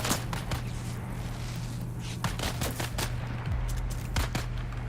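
Rapid video-game gunfire from a Dune: Awakening trooper firefight, dense overlapping bursts with a sustained rattle and scattered louder shots, steady and fairly loud throughout with no talk.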